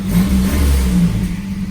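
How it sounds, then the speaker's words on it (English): Pickup truck with a stock exhaust and an exhaust leak, its engine rumbling and revving close by with a low rattling buzz throughout, no voices over it. "it obviously has an exhaust leak somewhere, and you can hear that exhaust rattle"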